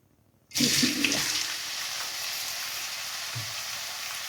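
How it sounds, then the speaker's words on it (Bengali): Chopped onion dropped into four tablespoons of hot mustard oil in a wok, bursting into a loud, steady sizzle after a brief silence and settling into a continuous frying hiss. "তেলটা গরম হয়ে আসছে, এখন আমি দিয়ে দেব এর মধ্যে পেঁয়াজ কুচি।"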